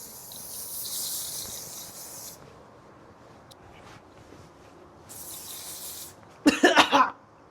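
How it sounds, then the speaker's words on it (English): Hairspray hisses from an aerosol can onto separated sections of hair, two sustained bright sprays of a couple of seconds each, close by, followed by a short burst of louder rustling or handling noise. "And then I spray my hair when it's separated like that."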